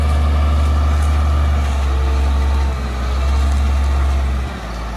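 A dump truck hauling about 12 tons of gravel rumbles loudly and steadily nearby, its deep engine drone dipping and swelling slightly as it maneuvers to dump the load.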